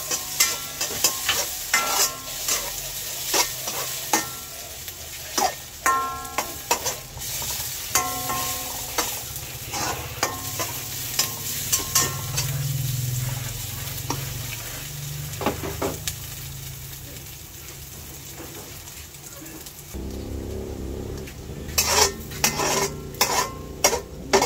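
Leftover ham and hotdog fry in a pan beside fried rice, a steady close sizzle broken by frequent spatula scrapes and metallic clinks that grow busier near the end, with no talking.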